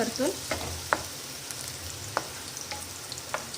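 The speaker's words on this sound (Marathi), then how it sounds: "त्याला परतून घ्यायचं छान आणि असं मऊ होऊ द्यायचं त्याला छान परतून" Corn being sautéed for a masala corn sabzi, with a soft steady sizzle in the pan and a few sharp spoon clicks as it is stirred, close and fairly quiet, no talking.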